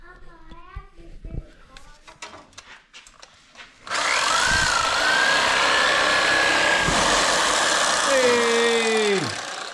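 A power tool on a 1983 LTD Crown Victoria during an LS swap, cutting off an obstructing nub, runs loud and steady for about six seconds with a whining pitch that rises then drops as it winds down, after someone talks briefly.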